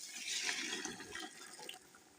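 Water is poured into a pot of spiced mushrooms for a large catering batch of mushroom biryani, a steady close splashing rush that gradually tapers off. No one talks.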